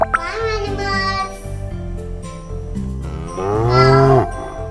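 Loud, drawn-out cow moos sound up close, two long lowing calls with a brief gap between them, over a faint background backing track.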